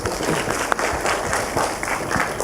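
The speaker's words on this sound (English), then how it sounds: "So big round of applause for them." Applause from the audience at a blockchain conference, greeting the speakers; steady dense clapping fills the room for a couple of seconds at moderate loudness.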